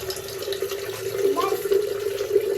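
Tap water pours steadily into a vessel for drinking, a continuous close splashing stream with a faint voice in the background.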